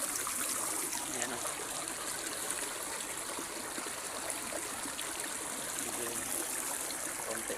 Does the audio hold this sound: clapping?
no